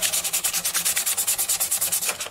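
Hand sanding on a Martin D35 acoustic guitar during crack repair, with steady rhythmic back-and-forth strokes, about twenty quick even passes, close and fairly loud with no voices.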